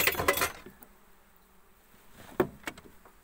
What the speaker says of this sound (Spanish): ¡La invasión de las moscas!